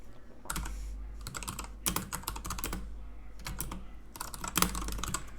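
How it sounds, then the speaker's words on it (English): Rapid typing on a computer keyboard, close and loud, in uneven bursts of clattering keystrokes separated by short pauses. "I'm just typing in something random and seeing what we got."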